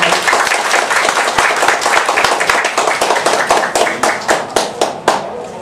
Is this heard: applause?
yes